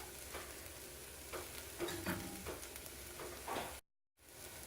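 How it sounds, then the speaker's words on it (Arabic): Flour and mushrooms frying in a pan with white pepper and nutmeg for mushroom soup, a steady close sizzle with occasional stirring scrapes, no talk, briefly cutting to silence near the end. "بعد ما حمست الطحين ويا الفطر راح أضيف الفلفل الأبيض جوز الطيب وأحمسه."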